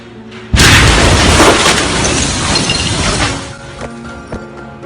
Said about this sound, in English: The explosion was caught on camera 11 kilometers away in the Dabia Marina.